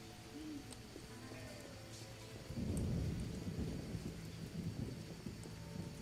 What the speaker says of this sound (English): Rains